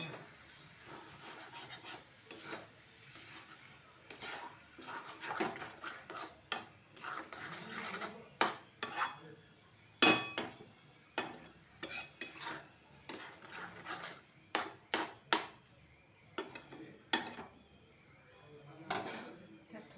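Paneer bhurji being stirred in a pan, with a spatula scraping and clattering against the metal in irregular bursts of near, moderately loud clinks and rasps, and a faint background hiss between strokes.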